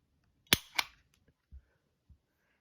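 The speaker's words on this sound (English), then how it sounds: "I'm using the Wheeler trigger pull gauge, and I'm going to do 3 trigger pulls." Three mechanical trigger pulls on a Smith and Wesson Sigma SW9VE pistol measured with a Wheeler trigger pull gauge: two sharp, close clicks followed by a softer, duller third, spaced apart in a quiet room.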